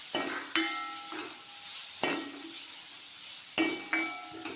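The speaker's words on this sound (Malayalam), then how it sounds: "ചീനിച്ചട്ടിയിൽ ഒരു ബൗള് തേങ്ങ ഇട്ട് കൊടുക്കുകയാണ്. തേങ്ങ നന്നായിട്ട് വറുത്തെടുക്കാം." Grated coconut roasting in a frying pan for a Kerala chicken curry, with a spatula scraping and stirring in three clear strokes over a steady dry sizzle and occasional metallic clinks, close and moderately loud.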